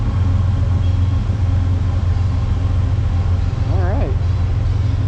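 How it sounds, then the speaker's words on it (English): A train passes near a hiking trail in Pennsylvania, heard as a loud, steady low rumble throughout, with a voice speaking over it. "And right now a train's going by"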